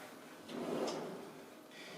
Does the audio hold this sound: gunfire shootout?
no